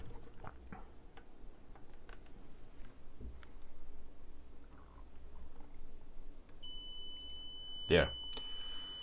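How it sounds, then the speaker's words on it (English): A continuity tester's short high beep sounds once near the end as the probe touches a via on an ASUS RTX 2080 Ti graphics card circuit board, following quiet bench noise and small clicks. "I will touch it like that, but you can hear the beep"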